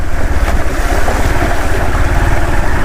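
Floodwater pours over a submerged causeway bridge while a motorbike crosses, a loud, close rushing wash heavily buffeted by wind noise, with no voices.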